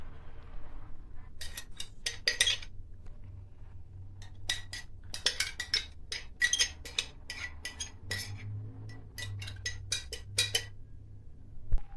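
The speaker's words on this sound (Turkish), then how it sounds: "Yoğurdumuzu ekliyoruz ve karıştırıyoruz." Repeated metal scrapes and clinks of a spoon against a pot, coming in short bursts over a quiet background, close by and without talking.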